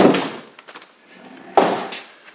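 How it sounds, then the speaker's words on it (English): A barn-style sliding door inside a trimmed-out Live Oak triple-wide manufactured home rolls and thuds shut twice, a rumbling slide ending in a knock each time, close by with no talking. "As you can see, it has the barn sliding doors."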